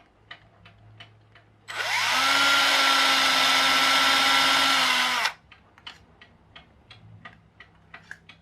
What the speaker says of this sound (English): one of the axles as my drill bit. It actually heats up as it goes through, and that actually melts it in place